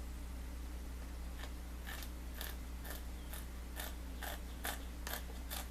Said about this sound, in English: now I'm putting a good deal of pressure on these scissors